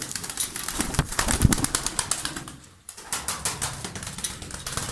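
Rapid wing flaps and fluttering from tumbler pigeons close by, with soft low coos and a brief lull midway; no talking.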